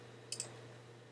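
A computer mouse gives two quick, faint clicks close together, set against a low steady hum.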